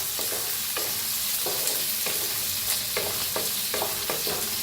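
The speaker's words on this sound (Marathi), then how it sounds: "त्याच्यात टाकूया कांदा कापून घेतलेला बारीक, त्याला भाजून घेऊया।" Finely chopped onion fries in a pan with green chillies, a constant bright sizzle punctuated by regular scrapes and taps of a stirring spoon, with no talking.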